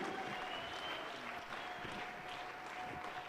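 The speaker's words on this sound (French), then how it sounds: "Applaudis très bien le Seigneur des seigneurs, les rois des rois." A worship congregation at a mass prayer gathering claps in steady, continuous applause that fills the room at moderate volume, with a faint voice in the background.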